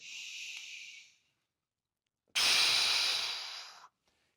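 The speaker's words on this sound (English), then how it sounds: "breathing in." Two slow breaths drawn in and let out during a wall stack posture exercise with an arm reach. The first is a soft airy exhale and the second, after a pause, a louder, closer, breathy rush that fades before ending abruptly.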